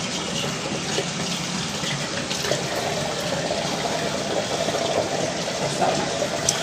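A tap runs water over hands being washed before using a neti pot. The steady, close rushing flow continues without a break, with a few louder splashes and no speech.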